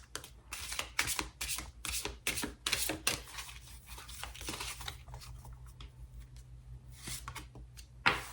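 Tarot cards being shuffled and drawn from a deck, a run of close, crisp riffling and flicking bursts, some in quick succession, with a low steady hum underneath and a sharper snap right at the end.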